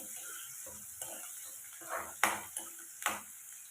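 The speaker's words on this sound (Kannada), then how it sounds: "ಈರುಳ್ಳಿ ಚೆನ್ನಾಗಿ ಬೇಯಿಸ್ಕೋಬೇಕು" Onions fry in a pan for a paneer butter masala gravy, with a soft steady sizzle under several sharp scrapes and clinks of a spoon stirring against the pan.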